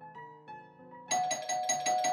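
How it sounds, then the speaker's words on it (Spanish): An insistent doorbell used as an audiobook sound effect: soft chime tones first, then a loud, sustained electric ringing with rapid pulsing, close and without voices. "El insistente timbre de la puerta hizo que Blanche diera un respingo"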